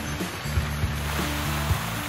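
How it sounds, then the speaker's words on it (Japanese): A waterfall at a cool hill resort near Bogor, Indonesia, makes a steady, rushing roar of falling water that runs evenly throughout, with a faint low hum beneath and no voices. "おお、滝だ"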